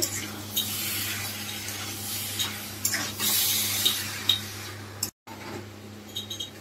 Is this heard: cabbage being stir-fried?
yes